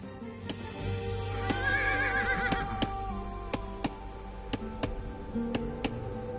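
A horse whinnies clearly in Age of Empires 2 amid a steady series of sharp, evenly spaced clicks and light hoofbeat-like taps, with a soft ambient background.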